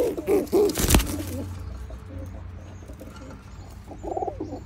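Oman Teddy pigeons coo in low, rolling calls at close range, with a sharp loud burst near the start before softer cooing and faint chirps carry on alone.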